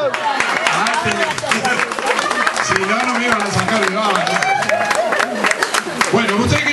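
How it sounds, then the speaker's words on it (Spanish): A live audience at a gaucho comedy show by El Gaucho Giordano of Paysandú bursts into steady, loud applause mixed with crowd hubbub and chatter throughout. "¡Aplausos! ¡Aplausos!"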